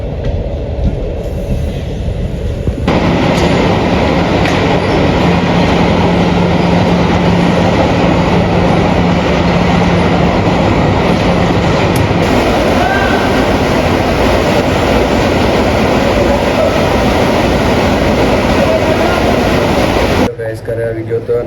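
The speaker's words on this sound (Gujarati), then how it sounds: "તો આપણે ભેગી થઈ ગઈ રેલગાડી" A train passes close by near a Ramapir temple, a loud, steady rumble and roar that starts abruptly and runs for about seventeen seconds before cutting off.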